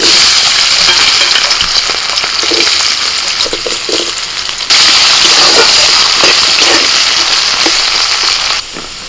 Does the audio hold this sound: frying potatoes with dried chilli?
yes